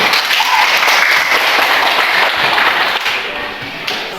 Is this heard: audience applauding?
yes